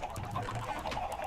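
Chickens on a Minecraft farm, heard as a soft cluster of faint, rapid clucks close together, quiet and without talk.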